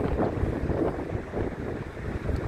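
Wind gusts across the mic on Blackpool's North Promenade by the sea, a constant low rumbling buffet with no voices.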